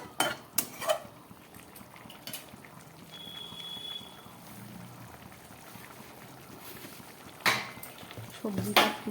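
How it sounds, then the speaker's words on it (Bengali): A metal spatula stirs mixed vegetables with a little water in a frying pan, giving sparse scraping clinks and clanks near the start and end, with a quieter stretch of faint cooking noise in between. "এবার আমি একটু খুন্তি দিয়ে নাড়াচাড়া করে নিচ্ছি।"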